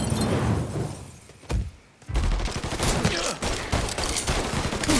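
Dense bursts of gunfire in Mafia 3, overlapping shots and rapid volleys crowding together, briefly dropping away near the middle before resuming loud and close, with a voice heard faintly amid the shooting.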